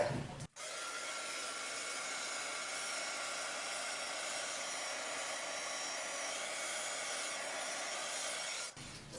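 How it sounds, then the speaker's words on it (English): A heat gun blows steadily to melt embossing powder on a handmade card, a loud, even broadband whoosh that runs almost the full length without a break before cutting off near the end. "Now I'm going to bring in my heat gun."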